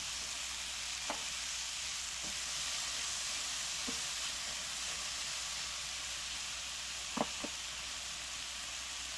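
Food fries in a pan over medium to high heat for Tex-Mex cooking, a steady, fairly quiet sizzle throughout, with a few light utensil taps and clinks scattered across it.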